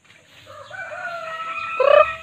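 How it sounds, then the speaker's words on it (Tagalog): A rooster at a resort crows once, close and clear, its call rising and sharpening toward the end. "Kakaiba yung mga manok. Tignan mo guys yung manok na oh."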